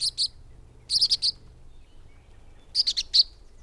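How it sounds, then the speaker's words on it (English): Swallows nesting in boxes near beaches chirp in quick, high clusters of three or four notes, fairly close, with short quiet gaps over faint low background noise. "Migrating swallows nest in boxes that Land Trust volunteers have installed near our beaches"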